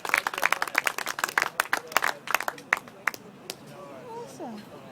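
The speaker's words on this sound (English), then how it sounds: "So give yourself a big round of applause" A crowd claps at a Gaza solidarity gig, with scattered sharp handclaps rising and falling for a few seconds before thinning out, and faint voices underneath near the end.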